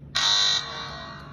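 A DIY Arduino fire detector's alarm buzzer sounds a single loud, shrill electronic tone lasting about half a second, then cuts out, leaving a faint background hum.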